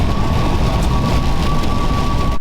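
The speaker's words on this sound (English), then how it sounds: "it's a good thing we got everything up there before this rain hit" Heavy rain pours down in a dense, steady hiss close by, with a faint constant tone running under the downpour before it cuts off abruptly.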